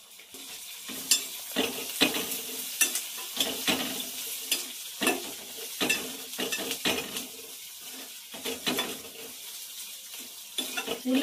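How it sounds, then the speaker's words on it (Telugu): Onions frying in a pan, a soft sizzle broken by a long run of evenly spaced scraping stirs, close and moderately loud, with no voices. "ఉల్లిపాయలు అనేది బాగా ఏగాలి."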